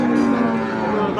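A red native bull lows loudly and steadily at the Tepakhola cattle market in Faridpur, one long close moo that fills the moment.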